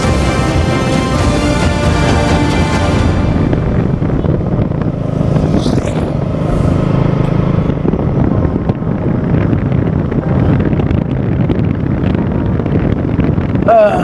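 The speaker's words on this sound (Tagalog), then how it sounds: "Pasensya na kung medyo mahangin siguro" Steady, heavy wind buffets the microphone outdoors in Zambales, Philippines, a constant low roar with gusty rumble and no clear pauses.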